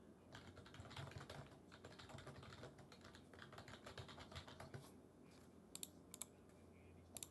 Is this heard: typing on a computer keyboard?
yes